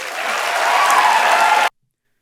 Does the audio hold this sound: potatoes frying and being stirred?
no